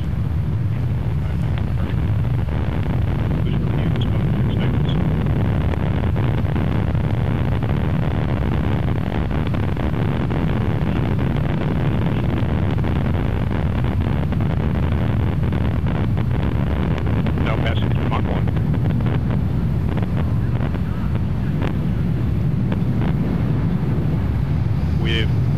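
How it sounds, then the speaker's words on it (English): Atlas V rocket lifting off from Cape Canaveral carrying NASA's New Horizons probe to Pluto, a steady, continuous deep roar with heavy low rumble and windy buffeting that holds for the full stretch, with no letup. "liftoff of the Atlas V rocket carrying the Pluto New Horizons Observatory for NASA"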